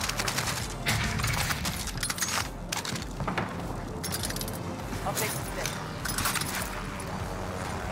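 Bursts of gunfire crackle through a Warzone tournament match, quick rattling volleys and scattered shots under near-constant excited commentary.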